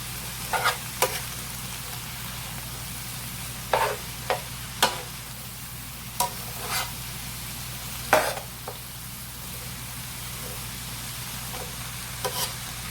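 Garlic gets stirred in a hot frying pan for a home-cooked Chinese dish, a quiet steady sizzle broken by soft scraping clinks of the utensil at irregular intervals, with no talk.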